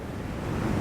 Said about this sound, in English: Boy, it's windy right now.